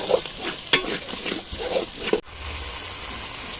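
Spice paste for a duck curry frying in a pan, stirred with rhythmic scraping strokes over a soft sizzle, close up; a sharp clack near the middle, then a quieter steady sizzle.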